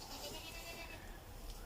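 A goat on a Russian farm bleats faintly and briefly, nearly lost in a noisy background.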